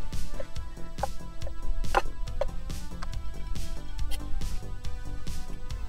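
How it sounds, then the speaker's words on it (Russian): A knife finely dices roasted pepper on a cutting board, chopping rapidly and evenly in a steady stream of sharp close taps with no talking. "Нарезаем мелким кубиком."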